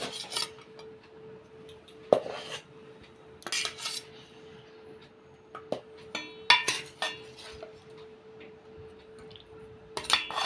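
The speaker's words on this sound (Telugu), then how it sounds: "ఇంకా మనం ప్లేట్లో సర్వ్ చేసుకుందాం." Cutlery and dishes clink and scrape intermittently as chicken curry is served onto plates at home, with soft rubbing between the sharper clinks.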